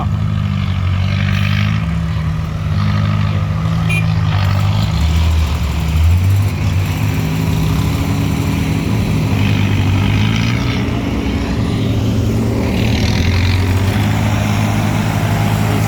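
A six-wheel truck's engine, a deep, heavy rumble with strong low tones that rise and fall as it runs, loud and close throughout the whole stretch with no voices over it.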